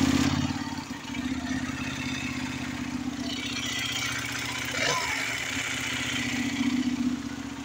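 A Benelli Leoncino 800 motorcycle engine runs steadily at idle, its low mechanical hum and light clatter continuous throughout, with a brief louder blip near the middle.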